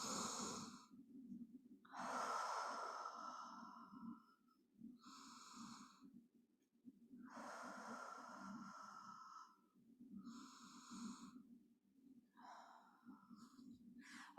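Slow, deep breaths in and out during a child's pose stretch, several close, soft inhalations and exhalations in steady rhythm with short pauses between them.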